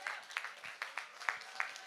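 An audience at the Relais pour la Vie opening ceremony in Rixensart gives scattered, faint applause for cancer survivors in purple T-shirts. A handful of distinct claps sound at irregular intervals rather than a full ovation.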